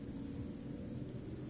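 Steady broadband rain hiss with a low rumbling undertone of thunder in the video game Final Fantasy 15, a continuous stormy wash heard alone without talking.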